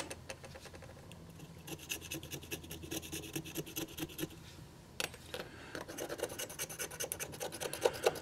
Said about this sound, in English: Then I might be able to scrape a little more off.